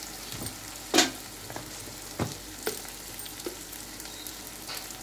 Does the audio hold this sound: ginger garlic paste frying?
yes